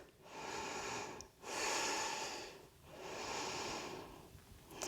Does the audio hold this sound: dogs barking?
no